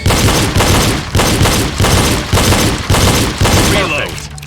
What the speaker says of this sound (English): Double tap the body of each target as fast as you can